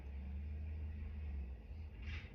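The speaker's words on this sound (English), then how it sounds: "And then the dump truck passed by." A heavy dump truck rumbles past with a deep, steady engine drone, fairly close, with a brief hiss near the end and no talking.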